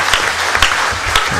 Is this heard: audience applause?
yes